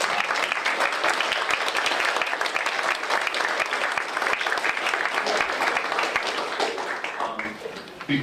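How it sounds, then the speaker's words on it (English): Sustained audience applause at a community poetry festival and birthday party, dense clapping from a crowd held steady for several seconds before thinning near the end. "Can we have a little round of applause for Deb"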